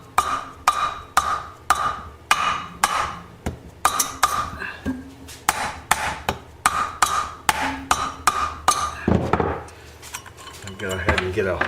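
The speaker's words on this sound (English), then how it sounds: "I'm going to have to smack it a little with a dead blow" Sharp, ringing taps from a dead blow hammer drive the cylinder down over the pistons of a 1973 Honda CB750 motorcycle engine. The taps come close together in a quick, fairly even series of about twenty.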